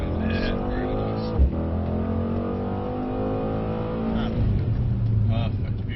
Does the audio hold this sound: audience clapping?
no